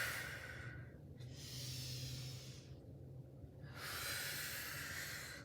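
Slow, deep breaths during a yoga cat-cow sequence, a long hissing inhale followed by an exhale and another inhale, close and quiet with no talking.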